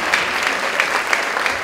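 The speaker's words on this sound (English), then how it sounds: "Let's give him a round of applause." An audience applauds the Premier of Bermuda at an awards ceremony, with steady, dense clapping that holds at an even level throughout.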